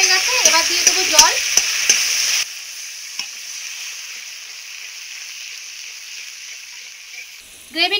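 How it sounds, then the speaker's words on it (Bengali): Spiced masala gravy fries in oil and is stirred in a village kitchen, a steady close hiss of sizzling running for about five seconds after a brief stretch of other sound at the start. "দেখুন গ্রেভি দিয়ে কিন্তু তেল ছাড়তে শুরু করে দিয়েছে। আমার মশলা কষানোটাও রেডি হয়ে গেছে।"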